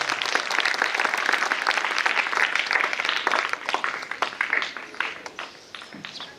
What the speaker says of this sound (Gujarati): જોરદાર તાળી વગાડજો